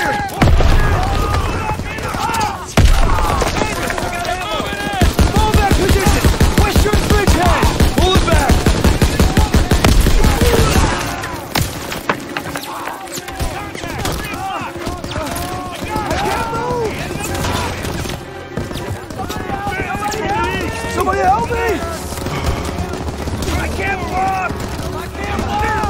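Sustained battlefield gunfire in a Call of Duty game at a Death Factory, with rapid machine-gun bursts, booms and explosions layered under shouted voices, loud and dense throughout with a heavy rattling stretch in the first half.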